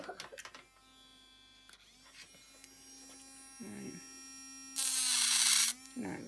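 A handheld electric nail drill runs in reverse with a thin steady whine close by, interrupted by brief clicks and handling noises and a short louder burst near the end, while someone talks over it.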